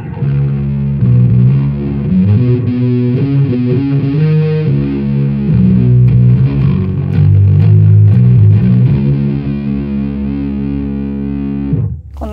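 Electric guitar played through an Earthquaker Devices Hizumitas distortion pedal, a thick, sustained fuzzy tone with chords and held notes ringing loud and steady for about twelve seconds, ending in a brief cutoff.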